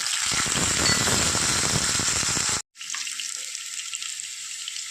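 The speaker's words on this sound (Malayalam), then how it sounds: "ഇപ്പോൾ വെളിച്ചെണ്ണ നന്നായി ചൂടായി വന്നിട്ടുണ്ട് ആ സമയത്തേക്ക് നമ്മൾ എടുത്തു വെച്ചിരിക്കുന്ന ഇഞ്ചി ചേർത്ത് കൊടുക്കാം വെളുത്തുള്ളി ചേർത്ത് കൊടുക്കാം" Ginger and garlic sizzle in hot coconut oil, a steady loud hiss and crackle that cuts off abruptly, then resumes as a fainter, thinner sizzle.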